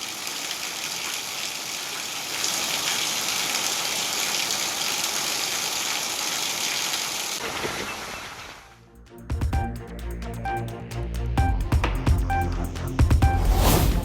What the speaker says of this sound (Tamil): நெல்லை மாவட்டம் மானூர் சுற்றுவட்டார பகுதிகளில் சூறைக்காற்றுடன் பலத்த மழை.